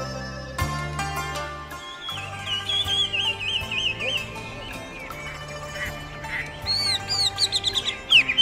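Birds sing in the morning on Lion Hill above an ancient city in Yunnan, China, with bright chirps and warbling whistles coming through over steady low background tones, growing busier toward the end.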